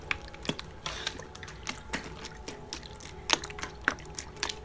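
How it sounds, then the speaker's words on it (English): Soft watery gurgles and small splashes of water sloshing in a bottle repeat irregularly, close and quiet, with scattered drips and clicks between them and no talking. "I also like the sound of water."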